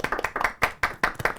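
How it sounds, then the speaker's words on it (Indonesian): An audience applauds a band in a short burst of close, uneven hand claps, with several louder peaks scattered through a steady patter. "Boleh tepuk tangan."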